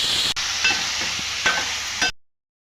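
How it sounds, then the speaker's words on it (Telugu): Chicken pieces sizzling in a hot pan of oil with salt and turmeric, a steady bright frying hiss with a few stirring scrapes, close and fairly loud, cutting off abruptly. "ఒక 2-3 మినిట్స్ బాగా ఫ్రై అవ్వాలి."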